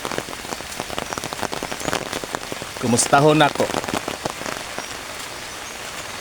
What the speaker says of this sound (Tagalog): ulan nagpayong-payong ta